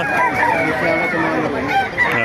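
A rooster crows repeatedly at the Bocaue pet market, its loud, harmonic calls layered over a busy background of other birds and market noise.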